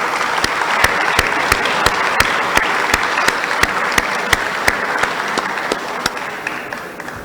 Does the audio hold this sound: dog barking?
no